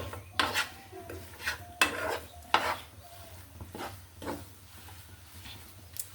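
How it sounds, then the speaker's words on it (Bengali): Mashed potato being stirred into a chicken kebab mixture in a bowl, with soft repeated scraping and stirring strokes, some sharper clinks of utensil on dish, close and moderately loud. "আলু দিয়ে মিক্সড করে নিচ্ছি আমি।"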